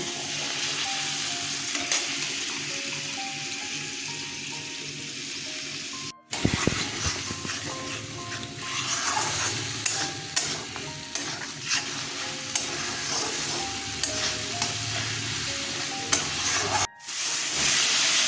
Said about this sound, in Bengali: মশলাটা কষানো হয়ে গেছে আমি ধনে পাতা পেস্টটা দিয়ে দিচ্ছি